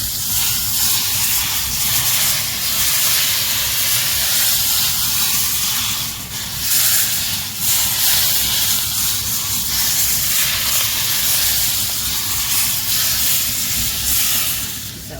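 Smoking-hot oil is poured into a raw turmeric pickle and sizzles, a loud, steady, broad hiss that carries on for several seconds with brief swells.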